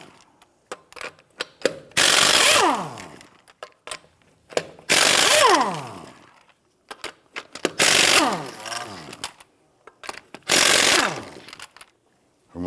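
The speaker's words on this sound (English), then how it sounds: "Use a 21mm socket to go ahead and loosen and remove the lug nuts." Pneumatic impact wrench with a 21mm socket loosening lug nuts on a 1992-1996 Toyota Camry wheel, four loud rattling bursts of about two seconds each, separated by pauses with small metallic clinks and handling noise.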